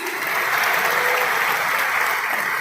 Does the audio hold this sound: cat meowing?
no